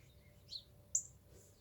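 Two short, high chirps from a cardinal, the first near the half-second mark and the second, slightly louder, about a second in, standing out over a quiet, low background hum.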